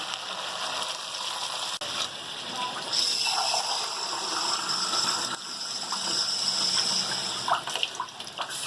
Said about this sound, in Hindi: ये हम 1 गिलास पानी डालेंगे।